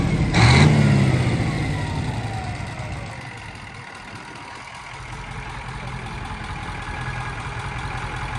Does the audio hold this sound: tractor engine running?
yes